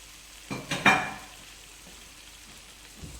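Raw chopped gooseberries being stirred into pickle paste in a pan on the stove, with a brief cluster of scraping and clinking sounds followed by a faint, quiet simmer.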